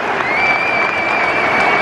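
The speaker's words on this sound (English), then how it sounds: "The fans are applauding." Football fans applauding in a stadium during a Hull City versus Coventry City match, a dense, continuous wash of clapping from a large crowd with a thin tone running above it.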